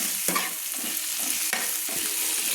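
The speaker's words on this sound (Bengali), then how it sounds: "দিয়ে আমি ভালো করে তেলের মধ্যে নেড়ে নিচ্ছি, যাতে আদা রসুনের কাঁচা গন্ধটা চলে যায়" Ginger and garlic paste fried in oil and stirred in a pan: a steady close sizzle with a couple of scraping stirs, with no one speaking.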